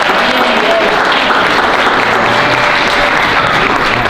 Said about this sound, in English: Please, with a warm round of applause, help me bring to the podium our Councilman at Large